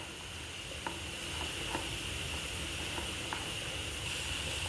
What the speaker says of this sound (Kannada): ಟೊಮೆಟೊ ಚೆನ್ನಾಗಿ ಫ್ರೈ ಆಗ್ತಾ ಬಂದಿದೆ.